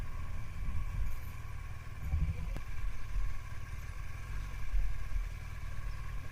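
A motorcycle engine idles steadily on a ride near Bamberg, giving a low, even rumble with a faint mechanical hum. It sounds fairly close, with no talking over it.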